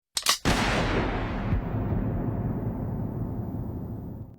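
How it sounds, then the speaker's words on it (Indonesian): A single loud gunshot goes off in the One Piece anime as a bandit is shot, a sharp crack followed by a long, rumbling roar that slowly fades out. "satu bandit pun tewas ditembak oleh anak buah Shanks"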